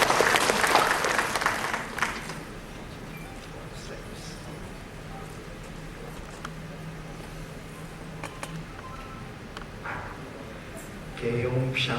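An audience at SCB Medical College claps to welcome a speaker: a brief loud burst of applause fades into a quiet room hum, and a voice comes in near the end.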